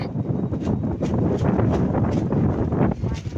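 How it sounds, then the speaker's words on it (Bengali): Strong wind under a dark, cloudy sky rushes and buffets the microphone in a continuous low roar with gusty surges throughout. "আর কেমন জোরে হাওয়া দিচ্ছে"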